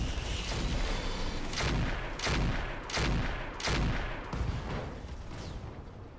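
Weapon rack firing in the mech combat game Roguetech: a rapid string of about six loud, heavy gunfire blasts, roughly evenly spaced over a dense rumbling battle-noise bed, with no talk.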